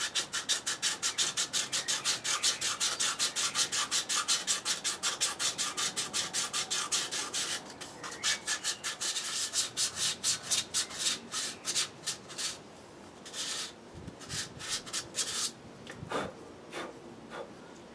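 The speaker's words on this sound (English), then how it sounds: "I'm just going to spend a little bit of time with some sandpaper, just going over this" Sandpaper rubs back and forth on a wooden cup carved from a branch in quick rhythmic strokes, close and steady, then slowing into shorter, more spaced passes toward the end.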